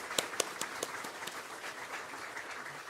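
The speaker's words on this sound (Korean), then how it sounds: "우리 다음 세대를 위해서 한번 격려의 박수 한번 부탁드립니다." A church congregation claps in encouragement during an Easter service. A few sharp claps near the start give way to softer, scattered applause that fades, heard from a moderate distance in a reverberant hall.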